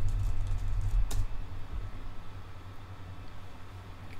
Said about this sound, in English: let's type in our topic